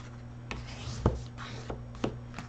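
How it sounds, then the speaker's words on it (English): A paper file folder is creased and folded along its score line, giving a few soft crisp rustles and scrapes spaced about half a second apart, close and quiet with a low steady hum beneath. "I usually flip it around and fold it this way."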